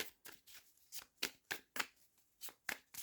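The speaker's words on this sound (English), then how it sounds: "I shuffle off camera because some of them are really cringe" Deck of tarot cards shuffled in quick, crisp riffles, about a dozen sharp bursts in an uneven rhythm, close and fairly quiet, with no talking.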